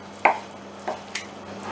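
A knife chops through meat from a pig's head on a board, three sharp close thuds spaced unevenly, the first the loudest, with no talking.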